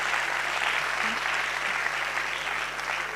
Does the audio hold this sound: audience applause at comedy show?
yes